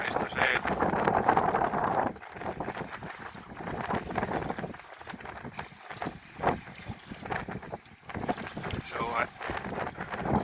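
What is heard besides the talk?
wind while sailing a boat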